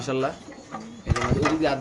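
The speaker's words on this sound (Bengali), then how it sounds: "কিছু মাদি কবুতর আপনি দেখতে পাচ্ছেন" Female pigeons at a market stall give soft, low cooing calls in a short stretch, close by, with some background noise.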